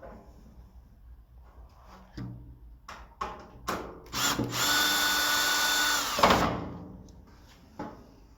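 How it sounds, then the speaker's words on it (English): A power drill whirs in short bursts, then runs steadily for a couple of seconds as it drives a screw while installing a hinged cover on a Blackstone griddle, with a few clicks and knocks around it. "It's recommended to have a drill positioned, ready to drive this screw the rest of the way in."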